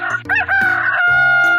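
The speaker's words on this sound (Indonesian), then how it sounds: "itu suara ayam jantan yang berkokok di pagi hari." A rooster crows once in a short, loud, clear cock-a-doodle-doo on a farm in the morning, heard alone and close.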